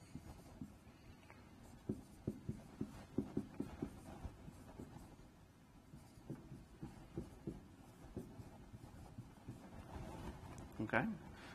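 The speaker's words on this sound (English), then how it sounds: "So that's writing down something that looks very similar twice." Pen or chalk writing something down, a string of soft quick scratchy taps and strokes in irregular clusters, close and quiet, with a person talking over parts of it.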